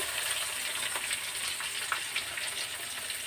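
Whole spices sizzling in hot oil in a pan for vegetable biryani, with onions about to go in: a steady, close hiss and crackle with small pops, continuous and unbroken, with no talk.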